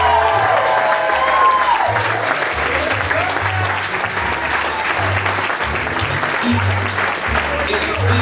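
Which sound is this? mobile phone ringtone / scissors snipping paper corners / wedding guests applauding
wedding guests applauding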